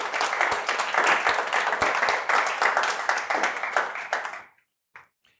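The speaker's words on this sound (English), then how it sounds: "give him a round of applause and a big warm welcome" An audience claps in welcome for an agency-apprenticeship speaker, a full, lively round of applause that holds steady, then fades out near the end, followed by a short pause and one last brief burst.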